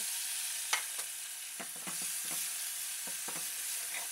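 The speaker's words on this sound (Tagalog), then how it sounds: "Ilalagay natin ngayon yung ating binlend na onion." Blended onion drops into hot oil with browned garlic for a chicken curry, sizzling steadily with several distinct stirring scrapes close by and no talking.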